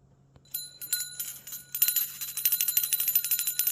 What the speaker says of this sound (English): Oh, I left my bell.